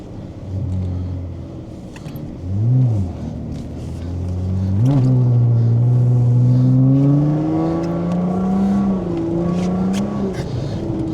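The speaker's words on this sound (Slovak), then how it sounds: "Auto." A car drives past close by, its engine hum swelling with a brief rise in pitch, then holding a loud, sustained tone before easing slightly as it moves on.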